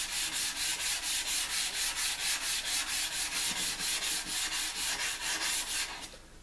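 Sandpaper rubbed by hand along a san mai kitchen knife blade of Damascus and Wootz steel, in steady rapid back-and-forth strokes, about three per second, close and continuous, then stopping abruptly near the end.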